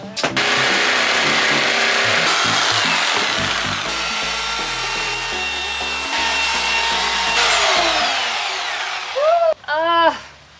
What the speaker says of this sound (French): Là, on va découper une deuxième partie pour que ce soit le dessus de la table qui soutiendra ça.